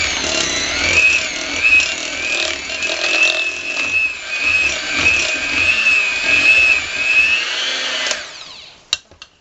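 An electric mixer beating buttercream icing, a loud steady whirring motor drone with a high whine that runs evenly for about eight seconds, then cuts off, followed by a few brief clinks.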